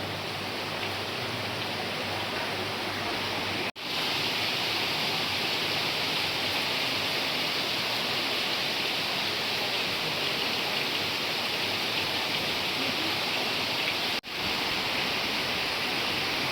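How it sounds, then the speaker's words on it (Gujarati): Heavy rain pours outdoors in a steady, dense hiss that stays loud and even throughout, broken only by two brief cuts, with no talking. "તો ભાઈ વરસાદ ચાલુ થઈ ગયા અહીંયા."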